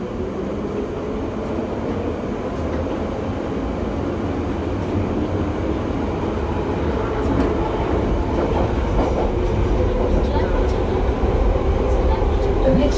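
A London Underground Piccadilly Line train runs toward Heathrow, a steady deep rumble and rattling wheel clatter that grows slightly louder throughout, heard from inside the carriage.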